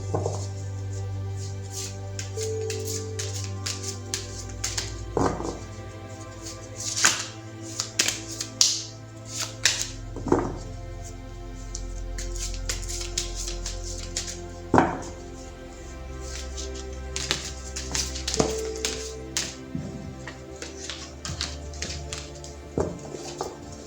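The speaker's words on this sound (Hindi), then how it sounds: "तो चलिए पहले ज़रा कार्ड्स को शफल कर लेते हैं।" Tarot cards being shuffled by hand in a quiet room, giving soft repeated riffling and tapping clicks with a low steady hum underneath, no voice.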